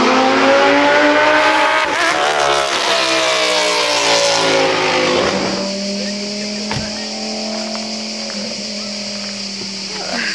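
Lamborghini on the Imola race track, heard as a loud engine passing close by with rising and falling revs, then fading into a steadier, more distant drone.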